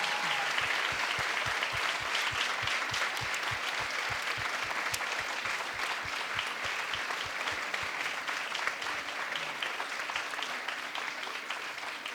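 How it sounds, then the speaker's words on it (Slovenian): An audience at a school cultural celebration applauds a performance with sustained, dense clapping that stays even and fairly far off throughout, marked by a steady rhythmic beat of unison claps. "Tako da dajmo jim še enkrat zaploskati za to odlično predstavo."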